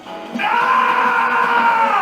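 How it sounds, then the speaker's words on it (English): Sonic's drawn-out death scream as the Werehog in Sonic Unleashed on Xbox 360, one loud, sustained, strained bellowing howl that starts abruptly and holds steady to the end, with no other talking. "am I the only one who thinks Sonic's death scream as the Warhog is completely over the top"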